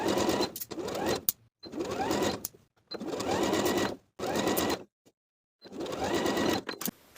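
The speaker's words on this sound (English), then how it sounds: "Now we can sew our sleeves in place with a 3/8 inch seam allowance" A sewing machine stitches sleeves into an athletic top with a 3/8 inch seam allowance, running in several steady bursts of a second or so each, separated by short pauses.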